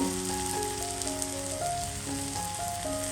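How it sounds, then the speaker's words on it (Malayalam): Vegetables fry in hot oil for a veg pasta, a bright continuous sizzle crackling close by under background music. "വെജിറ്റബിൾസ് ഒക്കെ ഇവിടെ എണ്ണയിൽ നന്നായിട്ട് വഴന്നു വന്നിട്ടുണ്ട്"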